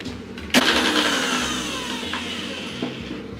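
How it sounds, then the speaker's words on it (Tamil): A mixer grinder grinding green chilli paste, starting with a sudden loud whir that settles into a steady motor drone with rising tones, close and alone. "பச்சை மிளகாய் பேஸ்ட்டாக அரைச்சி எடுத்துகிட்டு வந்துடுறேன்"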